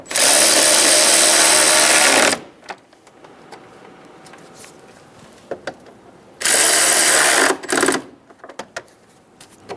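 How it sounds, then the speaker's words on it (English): Power ratchet or impact driver snugging the fan assembly bolts on a 2011-2014 Hyundai Sonata 2.4L radiator: two loud whirring bursts of about two seconds each, separated by quiet shop sounds and faint clicks. "Install the bolts on either side of the fan assembly. Get them started by hand and snug them down."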